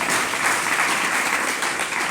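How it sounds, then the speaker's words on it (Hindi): Dense, steady audience applause fills a hall during a religious discourse, many hands clapping at once in a continuous wash of sound with no voices over it. "हम पर ताली बजा दी"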